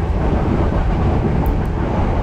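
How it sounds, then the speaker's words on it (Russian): Loud, continuous rattling rumble from inside a diesel passenger train travelling through Sri Lanka. The roar stays dense and steady throughout, with no voices. "Грохот в поезде, как в кузнечной мастерской."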